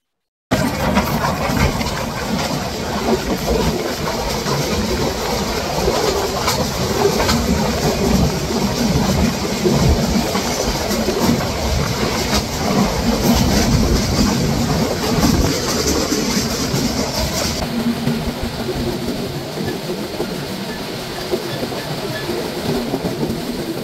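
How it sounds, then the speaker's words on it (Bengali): Inside the Dhumketu Express running from Rajshahi to Dhaka, a steady loud rumble of wheels and carriage with rhythmic clatter, while another train, the Mohanagar Provati Express toward Chittagong, passes alongside. "এরই সাথে আরও একটি ট্রেনের সাথে দেখা হয়ে গেল। ঢাকা থেকে চট্টগ্রাম অভিমুখী"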